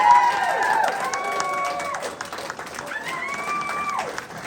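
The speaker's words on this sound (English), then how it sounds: "Please give these people a round of applause." An audience applauds artists at the opening reception of an art exhibition. Steady clapping runs throughout, with rising and falling whoops or cheers on top.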